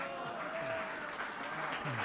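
An audience claps at a Hindi kavi sammelan hosted by Kumar Vishwas, a sustained wash of applause mixed with voices throughout.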